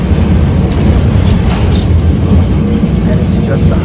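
Lisbon's Tram 28 rumbles through the old town streets, a loud, steady low roar of wheels and car body with faint rattling and clacks throughout, close and continuous, with a voice talking faintly underneath.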